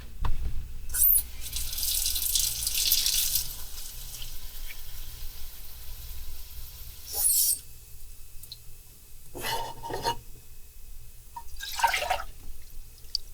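Water runs from a tap into a pot for hot pickled egg brine, coming in a few separate bursts of splashing and trickling with quiet pauses between, close and fairly clear.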